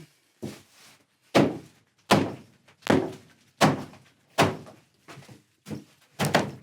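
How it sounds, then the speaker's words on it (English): From inside a wooden chicken coop, a fist bangs on the solid roof in about eight heavy, evenly spaced thunks, loud and close with short silences between them. "I'll go inside and bang it and you'll see it's absolutely solid."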